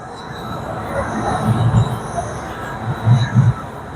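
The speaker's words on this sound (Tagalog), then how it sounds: "Kaya may train na dumadaan." A small tourist train passes through a Chinatown street, making a low rumble with a few heavy rhythmic thumps from the wheels, nearby, over steady street background.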